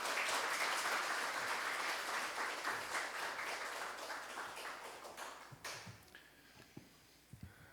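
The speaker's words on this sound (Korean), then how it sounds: "박수로 목사님 모시겠습니다." Church congregation at a special dawn prayer service clapping to welcome a pastor, dense sustained applause that gradually thins and fades into scattered claps near the end.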